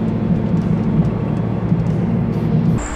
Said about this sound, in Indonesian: dari mulai traffic noise, suara mesin, suara ban juga masuk ke dalam kabin.